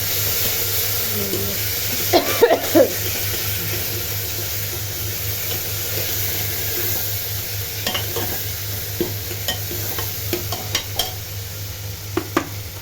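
Tomatoes tumble into a frying pan of gourd vegetable curry and get stirred, a steady sizzle running throughout with a few sharp scrapes and clinks of the spoon against the pan.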